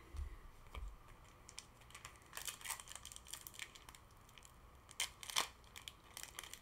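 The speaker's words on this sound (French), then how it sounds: "je les ouvre en mode dégoûtant les boosters. Je les éclate." Japanese Pokémon GO booster packs torn open roughly by hand, a series of crisp foil crinkles and short ripping bursts, scattered and fairly quiet, with two sharper tears near the end.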